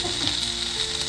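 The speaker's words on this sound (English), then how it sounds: "let me give you another little bit of a sizzle" Food sizzling and frying in a pan during a cooking segment for Kalamata olive croutons, a steady broadband hiss with faint crackles running continuously throughout, fairly close and with no talking.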